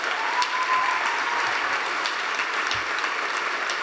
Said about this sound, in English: please join me in giving a round of applause for the honorees